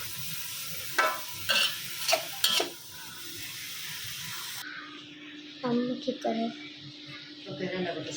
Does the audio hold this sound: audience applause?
no